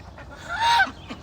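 A goose gives a single loud, nasal honk up close while farm geese and chickens are fed rice, rising and cutting off within about a second.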